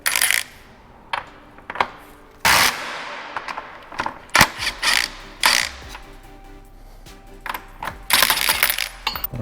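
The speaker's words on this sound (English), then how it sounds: "I'm going to use a impact wrench just to save time." An impact wrench works a 32 mm sprocket nut on an Aprilia RSV4 during a 520 chain and sprocket conversion, firing in several short, loud, rattling hammer bursts separated by pauses and clinks of tools.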